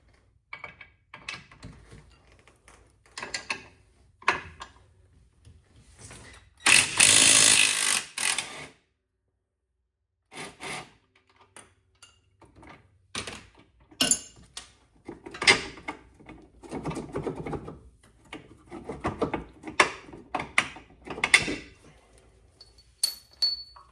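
Hand tools working on the lower rear shock bolt of a 2006-10 Dodge Charger, an 18 mm nut and 15 mm bolt head: irregular close metallic clicks and ratcheting bursts with one long loud ratchet run, between quiet gaps.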